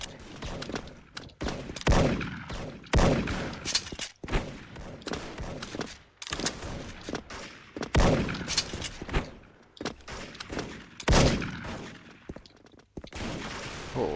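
Gunfire from a gold PSG-1 sniper rifle in the shooter game Special Force: loud single shots, roughly one to two seconds apart, each sharp crack trailing off, mixed with other game noises.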